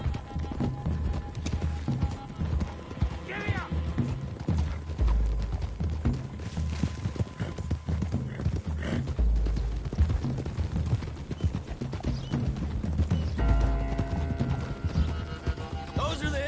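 Horses clip-clop at a steady run in Red Dead Redemption 2, hoofbeats under a continuous game score with an occasional whinny, close and fairly loud throughout.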